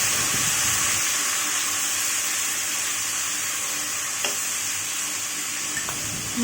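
Chopped ginger, garlic, capsicum and onion stir-frying in oil, a broad steady hiss of sizzling with a few faint scrapes, constant and fairly close, no talking.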